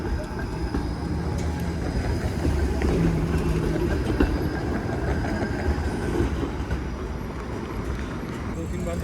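A Toronto 501 streetcar rolls by on Church Street downtown, a steady loud rumble with faint rail clatter running the whole time, mixed with street noise.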